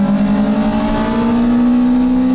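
A Hyundai Solaris and a 180-horsepower 1.8-litre Lada Granta accelerate hard off a drag race start, one loud engine note climbing steadily in pitch as it revs up through the gear, close and without talk.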